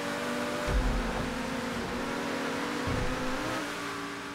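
Engine revving and accelerating during a street race in the video game GTA V, a continuous loud motor drone with two surges of low rumble, no talk over it.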